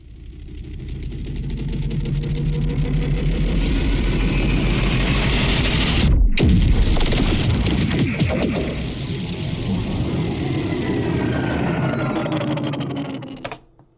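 A cut-up, post-processed M vocoder impact effect gives a dense, buzzing, mechanical texture that runs loud and continuously, breaks off abruptly midway, then resumes before cutting out.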